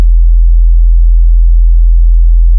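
A loud, steady 42 Hz low-frequency test tone hums continuously and alone, a deep sustained drone with no variation, cutting off abruptly at the end.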